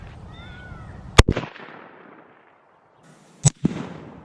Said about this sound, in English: First round, 22-250, shooting at 100 yards.